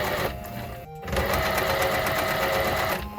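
A sewing machine stitches around the fabric of a coat, a continuous fast mechanical whir with a brief pause near the start before running steadily again, close and loud.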